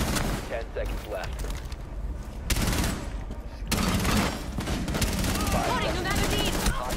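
Gunfire and rapid bursts from a Rainbow Six Siege match, loud and dense across most of the stretch, with excited talk over the shots.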